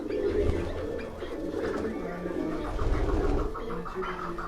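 Pigeons held in a handler's hand coo in low, throaty, rolling murmurs, close and continuous, with a faint voice now and then in the background.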